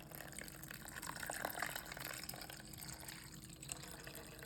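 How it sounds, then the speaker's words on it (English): Boiling water, one cup, poured into a bowl holding a 3-ounce packet of Jello mix in a home kitchen, a steady close splashing gush lasting a few seconds with no talk. "We're gonna throw 1 cup of boiling water."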